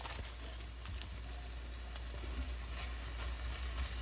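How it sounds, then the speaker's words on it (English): Smoked Rabideaux's sausage sizzles and crackles steadily in a pot of jambalaya, a dense, even frying hiss close by with no talking. "Now I'm going in with the smoked Rabideauxs sausage"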